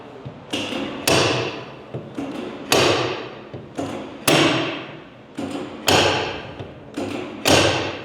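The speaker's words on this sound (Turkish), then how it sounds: "Vurdukça da birkaç kere çekişle tıklıyoruz ki sacımız hem yumuşasın hem rahatlasın." Sheet metal of a car hood being hammered during bodywork repair: about a dozen sharp, ringing metallic blows in an uneven rhythm, each decaying quickly, loud and close, no talking.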